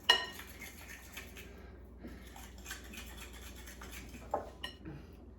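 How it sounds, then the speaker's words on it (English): A utensil stirs melted butter and brown sugar in a bowl for cranberry raisin oatmeal cookie dough, giving steady scraping and clinking against the bowl with a few sharper knocks. "I've added the brown sugar, and I am just going to stir this up really well."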